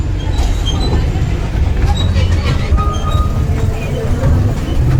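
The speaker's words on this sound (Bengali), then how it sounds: "ফাইনালি দেখতে পাচ্ছ টয় ট্রেন ছেড়ে দিয়েছে।" A toy train pulls away at Nicco Park amusement park in Kolkata, a steady rumble and rattle of wheels with faint clinks from close on board, with crowd noise around.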